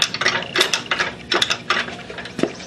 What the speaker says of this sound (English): now let me jack it back up